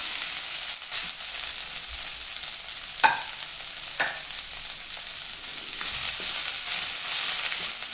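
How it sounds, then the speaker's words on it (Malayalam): Whole small shallots stirred and frying in a pan for chicken perattu, a constant close sizzle with occasional spoon taps and scrapes against the pan, no voices present. "ഉള്ളിയൊക്കെ ഒന്ന് വാടി വരുന്നവരെ ഒന്ന് ഇളക്കി കൊടുക്കാം."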